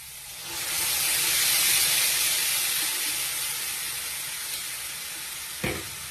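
Vinegar poured into a hot pan sizzles loudly and steadily, a bright broadband hiss swelling after a moment and holding, with a brief clink near the end.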